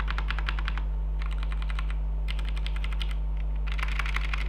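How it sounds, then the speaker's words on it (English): Steady bursts of typing on a Royal Kludge mechanical keyboard fitted with brown switches, close and clear, with short pauses between runs of rapid clacking keystrokes and a low steady hum underneath. "I choose the brown switches for this keyboard, which gives me the perfect balance of audible and tactile actuation."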